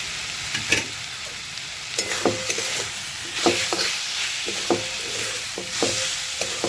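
Poppy seeds fry in hot oil with red amaranth greens, a constant sizzle broken by several sharp scrapes and taps of a spatula stirring the pan, heard up close without any speech.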